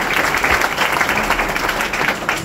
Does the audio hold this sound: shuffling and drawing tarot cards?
no